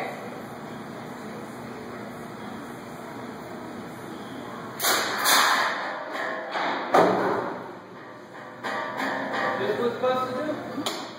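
A mobile launcher for a drone with a 30-foot wingspan is test fired, giving several dull thumps and whooshing bursts in close succession over a steady background hum.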